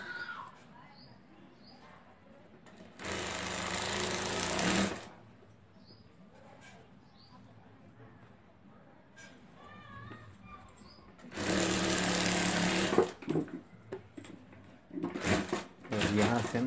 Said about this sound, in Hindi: और इस तरह करके यहाँ भी हमें एक सिलाई लगा देनी है।